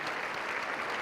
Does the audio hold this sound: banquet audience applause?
yes